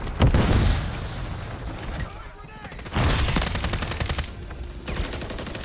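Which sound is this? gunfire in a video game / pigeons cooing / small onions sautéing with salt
gunfire in a video game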